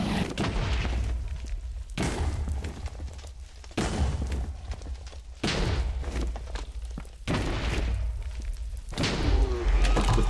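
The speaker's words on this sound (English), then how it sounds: "I set up for the explosions to come" Explosions blowing up the Ender Dragon in Minecraft, a series of heavy booming blasts roughly every two seconds, each a loud broadband burst with a rumbling tail, no talk present.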